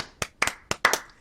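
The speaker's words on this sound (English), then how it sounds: "just give them claps" Five sharp hand claps ring out close together in a loose rhythm, clear and alone, a small round of applause in a podcast setting.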